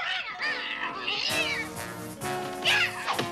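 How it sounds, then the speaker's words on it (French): A cartoon cat from the Smurfs meows and yowls several times in quick succession, loud and close, with cartoon music and effects around it. "Misérable chat!"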